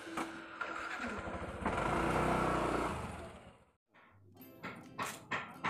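A motorcycle used for ojek rides runs with a steady, loud engine drone, rising as it revs, then drops out briefly before sputtering back with short, uneven bursts of throttle close by.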